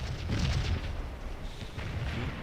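Cannon fire on a battlefield in the war game Scourge of War: deep booming reports, one heavy rumble near the start and another later, rolling under a steady background of distant battle noise.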